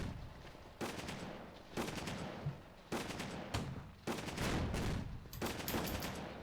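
Battlefield gunfire and artillery in the North Africa war game Attack at Dawn, loud bursts of crackling shots and booming blasts coming in about five separate volleys with brief gaps between them.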